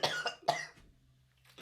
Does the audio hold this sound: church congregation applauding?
no